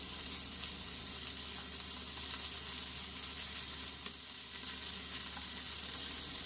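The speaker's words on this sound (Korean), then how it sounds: "식용유는 살짝만 두르시고 달궈진 팬에 구워요." Asparagus wrapped in pork belly frying in a little oil in a hot pan, giving a steady, close crackling sizzle throughout, with no talk.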